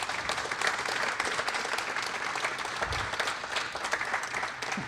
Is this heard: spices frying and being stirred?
no